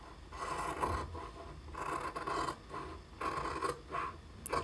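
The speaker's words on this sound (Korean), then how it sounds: "가위 소리 너무 좋죠?" Scissors cut along the edge of embroidered outer fabric for a cactus pouch in a series of crisp, rasping snips with short pauses between them, close and clear in a quiet room.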